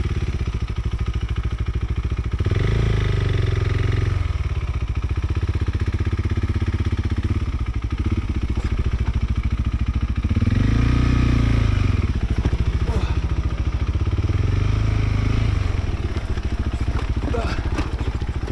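A KTM 390 Adventure motorcycle with new suspension and power mods rides down a rough, steep black-diamond trail, its engine surging and dropping in loud revving bursts over constant clatter and rumble, with a rider's voice occasionally over it.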